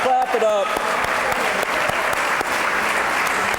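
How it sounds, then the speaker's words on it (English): Loud applause and cheering from an audience at a 2024 ViPS awards evening as honorees stand, dense steady clapping with a few shouts at the start and sharp individual claps throughout. "Clap it up, clap it up."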